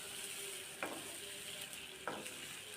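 Tomatoes and green chillies fry in a pan with a steady, quiet sizzle. A spatula stirs them in two distinct scraping strokes, and there is no talking.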